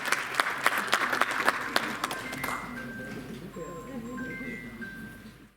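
An audience at the Roohani Utsav cultural event in Delhi gives guests a few seconds of brisk applause. It fades out and gives way to a quieter background with a voice and sustained tones.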